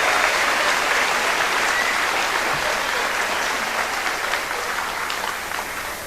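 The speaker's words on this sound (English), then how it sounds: "I would like us all to give a round of applause to all the amazing teachers," An audience at a middle school promotion ceremony claps for teachers, staff and coaches, a dense, steady wash of applause that tapers slightly toward the end.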